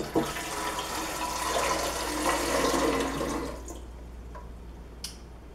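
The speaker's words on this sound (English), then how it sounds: "I'm gonna pour the water in here." Water pours into a Levoit humidifier tank in a close, rushing splash that runs for several seconds, then cuts off, leaving a few faint drips and a light clink.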